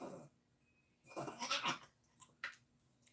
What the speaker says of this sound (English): now that the dog has cleared his throat